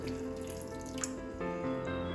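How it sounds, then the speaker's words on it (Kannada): Rinse water from a washed masala grinder lid poured into a mango curry, a short continuous trickle and splash heard close up with no talk. "ಅದರ ಮುಚ್ಚಳವನ್ನು ನಾನು ತೊಳೆದು ಅದರ ನೀರನ್ನು ನಾನು ಅದಕ್ಕೆ ಹಾಕ್ತಾ ಇದ್ದೇನೆ"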